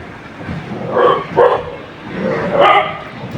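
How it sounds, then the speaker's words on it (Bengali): Dogs barking together at dusk alongside noisy monkeys, a few bursts of barking spread across the moment, moderately close over a murky outdoor background. "বানর কুকুর সব একসাথে চিল্লাচিল্লি লাগাইছে"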